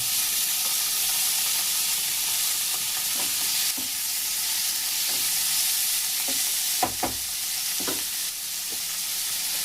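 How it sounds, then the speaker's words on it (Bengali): Tomato and green chilli go into browned onions frying in a pan for potato dum, giving a continuous loud sizzle close up, with scattered scrapes and knocks of stirring; no voices. "আমি এখন দিয়ে দেবো টমেটো আর কাঁচা লঙ্কা।"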